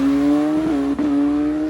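Pro Street drag racing motorcycle on street tires with a wheelie bar, running down the track: a loud, close, sustained high engine note that holds steady, with a brief dip and waver partway through.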